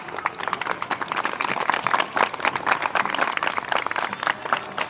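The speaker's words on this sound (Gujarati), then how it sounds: "જોરદાર તાળીઓ પાડીશું આપણે બધા." A crowd at a school science fair claps for the children, producing dense, steady applause of many overlapping hand claps. It carries on for several seconds at a moderate level, with no clear talking.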